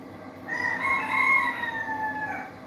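A rooster gives one long, loud crow that rises and holds before trailing off, heard alone with no talking.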